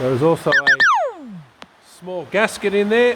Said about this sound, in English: Excuse my phone beeping there.